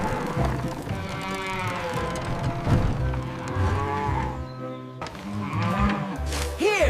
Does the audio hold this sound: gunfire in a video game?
no